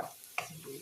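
Chopped onions hitting a hot pan for sautéing, with a sharp sizzling burst partway through followed by softer frying crackle and a faint scrape of stirring, brief and close.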